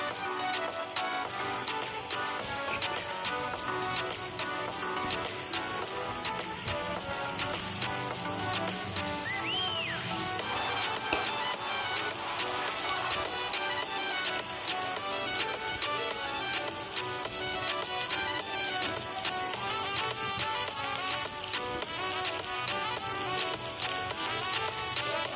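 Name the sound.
sweet paniyaram batter frying in oil in paniyaram pan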